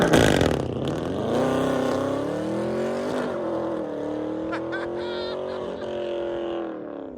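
A Dodge Challenger Scat Pack with a 6.4L V8 and six-speed manual drives off close by, its loud exhaust roaring and rising in pitch through the revs before easing back and fading slightly.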